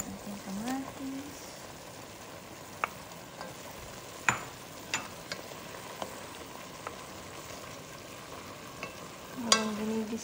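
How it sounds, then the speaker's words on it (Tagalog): Tomatoes are sautéed in a pot for chicken sinigang with a soft, steady sizzle and occasional spoon clicks and scrapes, close but quiet, while a voice speaks briefly now and then. "Habang ginigisa"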